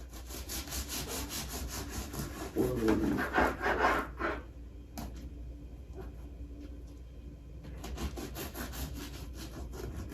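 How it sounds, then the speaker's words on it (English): A loaf of egg white bread sliced with a knife, making a rhythmic rasping, sawing scrape that grows louder midway, pauses briefly, then resumes with steady back-and-forth strokes. "it's cooled enough that I can slice it"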